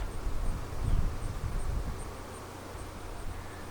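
Honeybees buzz at the front entrance of a Flow Hive on an 85-degree day, a steady, low insect hum that is loudest near the start and settles into a softer continuous drone, with no talking.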